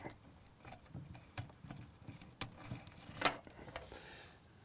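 A bicycle-style chain runs over a sprocket, giving faint, quiet mechanical ticking and light clatter with a few sharper clicks, heard alone.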